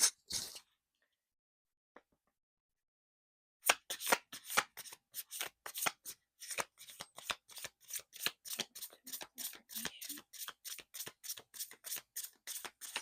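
Tarot cards shuffled for an affirmation pick, an opening slap, a short pause, then a long steady run of rapid, close, crisp card riffles with no talk.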